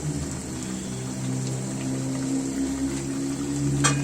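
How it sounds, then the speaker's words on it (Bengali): A pot of chicken curry with potatoes takes a pour of hot water, giving a continuous watery rush and bubbling hiss that holds steady throughout, close and fairly loud, with no voices. "তাই গরম পানি দিয়ে দিলাম আর গরম পানি দিলে মাংস তাড়াতাড়ি সিদ্ধ হয়ে আসে"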